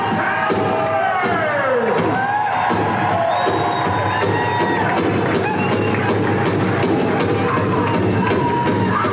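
An arena crowd cheers and shouts at the Gathering of Nations powwow, a loud continuous roar with whoops and children's voices, thumps and claps scattered throughout, and a brief spoken word over it.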